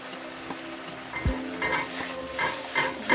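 Spice masala for a Bengali prawn curd curry fries in a pan, a steady soft sizzle with repeated scraping stirs of a spoon against the pan and a few light metallic knocks.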